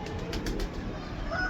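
Pigeons for sale, with a brief soft flutter of wings and faint bird sounds over steady outdoor background noise.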